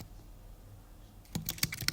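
A burst of computer keyboard typing as a support ticket note is entered, a quick run of sharp clicks after a quiet start, close and faint.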